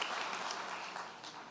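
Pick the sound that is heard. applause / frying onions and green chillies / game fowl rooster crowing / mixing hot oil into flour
applause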